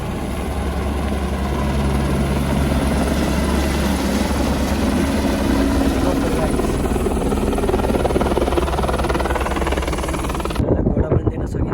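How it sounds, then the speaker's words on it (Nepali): Helicopter coming in to land in Mustang, its rotor beating steadily and loudly close by for most of the stretch, with a deep low engine drone throughout before an abrupt change near the end. "मोस्ताङमा चाहिँ यहाँ हेलिकप्टर आउँदै हुनुहुन्छ हेलिकप्टर यहाँ आएर ल्यान्ड गर्छ"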